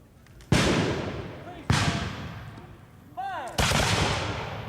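Reenactors fire their guns in volleys at a 1981 Constitution Week event on Blennerhassett Island. Three loud, sharp blasts come at separated intervals, each followed by a decaying boom, and a shouted command comes between them.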